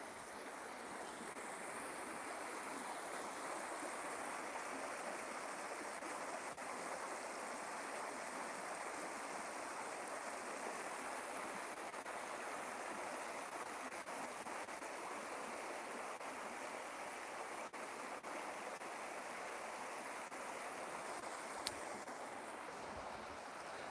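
A woodland stream runs over worn, eroded stones, giving a constant close rush of flowing water that holds at an even level throughout, with no voices.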